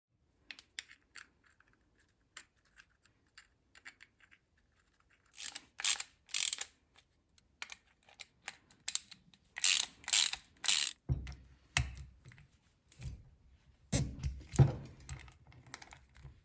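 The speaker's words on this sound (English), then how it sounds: "Now I'll put the first 3 bolts back in." Bolts are threaded back into the drive wheel of a wheeled MTD snow blower while its friction wheel is replaced, heard as sparse metallic ticks growing into bursts of ratcheting clicks, close and with no talking.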